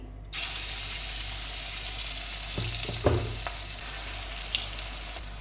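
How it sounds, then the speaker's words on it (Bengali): Onion fritters (peyaji) frying in hot white oil, a steady close sizzle starting abruptly and continuing throughout, with a few soft clinks and stirring knocks from a utensil in the pan. "আমি সাদা তেল দিয়ে পেঁয়াজিটা ভাজবো"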